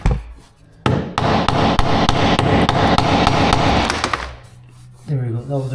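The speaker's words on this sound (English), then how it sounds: "We actually hit this with the metal hammer." A metal hammer strikes a tapping block against luxury vinyl plank laid over concrete, giving a rapid run of sharp, loud knocks for about three seconds before a voice speaks at the end.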